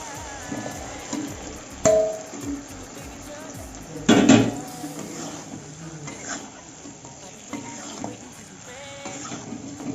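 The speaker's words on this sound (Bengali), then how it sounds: "এবার আমি মাংসটাকে দিয়ে দেবো।" Chicken meat goes into hot spice paste in a pan, with a clatter around two seconds and a louder sizzling burst near four seconds, followed by quieter stirring, scraping and utensil knocks.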